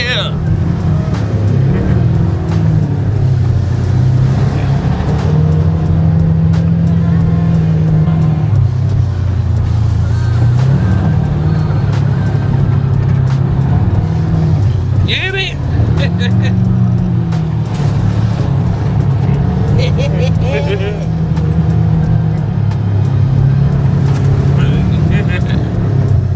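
ATVs on an off-road tour near Matanuska Glacier and Hatcher Pass drone steadily close by, engine pitch rising and falling with bumps and throttle changes, while people talk over the motor noise.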